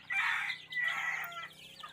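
Labuyo jungle fowl and hybrid chickens give two close, short clucking calls, one right after the other, with a quieter call trailing off.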